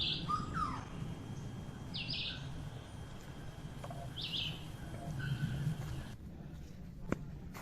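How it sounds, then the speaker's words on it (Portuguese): Wild birds sing along the overgrown Itupava trail, a forest path with stones and mud, giving several bright chirps and short trills at moderate distance over a steady low ambient hum, with no talking. "E muito canto os pássaros também"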